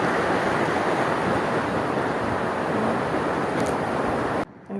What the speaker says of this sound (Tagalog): Kaso malakas ang alon. Malakas ang agos.